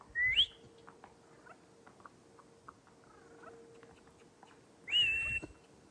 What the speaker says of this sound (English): Look, if I whistle to her.